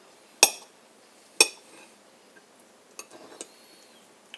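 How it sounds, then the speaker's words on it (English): A knife clinks sharply against a plate twice while a hard-boiled egg is cut into slices, followed by a few fainter taps and light scrapes, close and alone with no talking. "we gotta cut the egg in slices"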